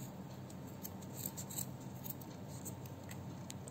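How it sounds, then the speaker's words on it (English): Scissors snipping thread while making a rakhi: faint, quick light clicks repeating close by over a steady low background hum, no talk. "then we will cut the sides of this thread"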